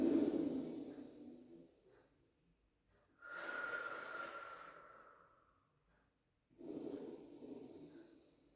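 Slow, deep breaths in a stretch class: a long exhale that fades out, a pause, then another full breath in and out, and a third starting. Each one is close, airy and unhurried with quiet gaps between.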